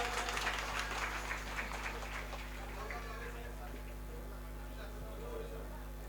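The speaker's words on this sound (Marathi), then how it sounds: "दत्तू आंधळे साहेबांसाठी सर्वांनी टाळ्या वाजवायच्या आहे" An audience claps together at a devotional kirtan gathering, a burst of applause that is loudest at the start and then thins out, with a low steady hum underneath.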